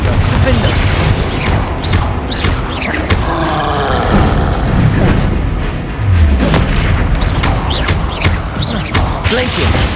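Booming Confringo spell blasts in the Hogwarts Legacy video game repeat amid a constant roar of combat noise, loud and dense from start to finish. Voices are mixed in.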